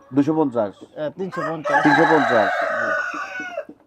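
A rooster on a tiger chicken farm crows loudly up close, one long drawn-out cock-a-doodle-doo rising and trailing off, preceded by a short burst of clucking and calls.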